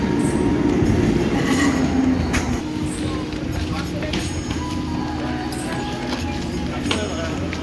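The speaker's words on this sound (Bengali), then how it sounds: "গোপালনগর থেকে ট্রেনে উঠে একটি সিট নিয়ে বসে পড়লাম।" Inside a moving railway carriage, a continuous rumble and rattle of wheels on track carry through the whole clip, with faint clatter and a murmur of voices in the background.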